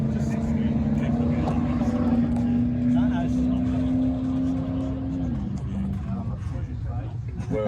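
A race car engine drones loudly and steadily at a raceway as the car heads out on track, the pitch holding and then dropping, with people talking nearby over the engine.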